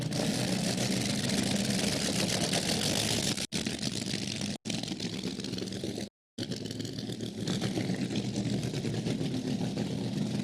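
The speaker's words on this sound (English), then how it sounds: "listen to the wonderful noise of drag racing cars from yesteryear" Loud, raw vintage drag racing car engines rumble and idle continuously at a drag strip, a harsh mechanical roar that cuts out abruptly a few times before resuming.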